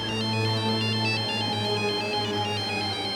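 A mobile phone ringtone plays continuously, a repeating electronic melody over a steady hum, moderately quiet with no voices.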